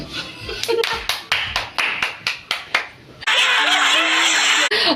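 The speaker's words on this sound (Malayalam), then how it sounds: "അങ്ങനെ കുഞ്ഞാടി ചേച്ചിക്ക് ഒരു ക്ലാപ്പ്." Several hands clap about a dozen times in a quick, uneven burst for a child who made a cake, close and loud, then a brief louder wash of cheering or noise follows.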